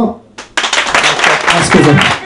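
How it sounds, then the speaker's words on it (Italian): Applause breaks out suddenly from a TV talent show audience after a short lull, a loud burst of clapping that swells and holds, with voices mixed into it. "Grande applauso."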